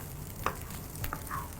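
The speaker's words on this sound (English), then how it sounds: "Just when we get a nice, gentle, foaming sizzle, I'm gonna add in my rice" Rice tossed into gently foaming butter with garlic in a pan, giving a soft, steady sizzle with a few brief stirring scrapes and clicks, close and fairly quiet.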